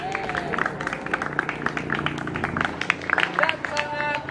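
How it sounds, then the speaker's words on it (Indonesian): Classroom of students clapping together in a broad, steady burst of applause, dense and sustained throughout with crowd murmur mixed in. "Tepuk tangan untuk kita semuanya."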